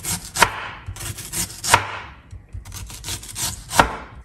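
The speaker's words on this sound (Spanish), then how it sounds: "vamos a empezar a cortar nuestra cebolla." A knife chops an onion on a wooden board in short bursts of rapid strokes, each burst opening with a sharp thud, close and clear with no talk.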